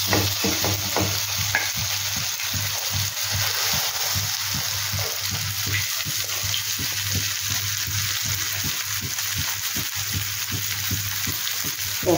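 New potatoes for an aloo paratha filling are sautéed in hot oil. A constant close sizzle runs under regular scraping stirs from a spatula, repeating roughly every half second throughout.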